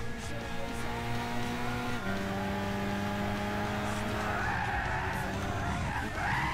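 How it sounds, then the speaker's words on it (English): A car in the Gran Turismo 6 racing game skids with a prolonged tire squeal over a steady droning engine whose pitch drops partway through, then scrubs and screeches again near the end. "How did I crash this thing?"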